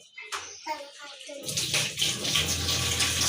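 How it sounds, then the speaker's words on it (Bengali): A voice speaks briefly, then a tap opens and water gushes steadily into a basin for the remaining seconds, wetting a toothbrush. "একটু পানি দাও কল থেকে"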